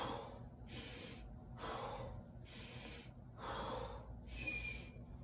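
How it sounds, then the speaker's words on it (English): A person demonstrates deep belly breathing, drawing several slow, deep breaths in and out through the nose in a steady rhythm, close and fairly soft, with no talking. "You're gonna breathe through your belly."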